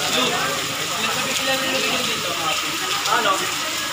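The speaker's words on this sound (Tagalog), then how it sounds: "Ayan, malakas ang ulan" Heavy rain pours down during Typhoon Dante in the Philippines, a dense continuous roar of water and gushing runoff close by, with people talking over it.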